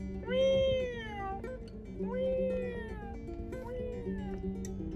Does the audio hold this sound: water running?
no